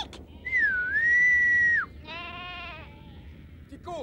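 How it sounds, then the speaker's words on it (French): In a French cartoon episode, a character whistles to summon friends: one long sliding tonal whistle, then a shorter warbling, trilled whistle, fairly loud and close with no talk over it. "Je vais siffler, ça les fera venir."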